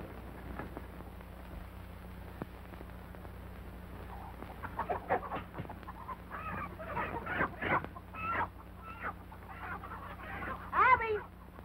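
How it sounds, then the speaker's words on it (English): A rooster clucks and crows on a 1930s western farm, starting softly and building into louder bursts of repeated calls, heard fairly near, with a person's voice mixed in among the bird sounds. "Help me find that rooster."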